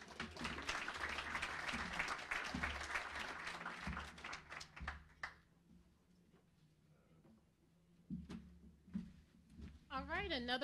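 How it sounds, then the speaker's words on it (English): An audience at a public service celebration applauds the senator, a few seconds of moderate clapping that thins to scattered claps, then a few isolated claps, with a voice speaking at the end; fairly quiet overall. "Another round of applause for the senator."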